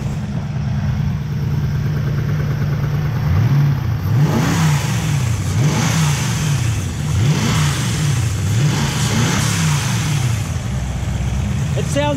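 A 700 hp twin-turbo Toyota 1UZ-FE V8 in an EX Lancer idles, then revs repeatedly in rising and falling sweeps, loud and close, with people talking nearby.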